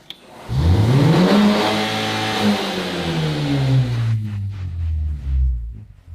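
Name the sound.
BMW engine revving at full throttle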